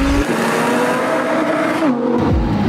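A Lamborghini Huracan Performante sports car engine roars loud and close, its pitch holding steady and then dropping through gear changes in a rising and falling snarl, with a deep bark at the end.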